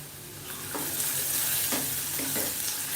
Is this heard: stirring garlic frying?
yes